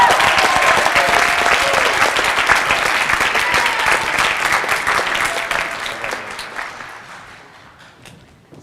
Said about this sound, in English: How about one more round of applause for all of our second-year orchestra letters?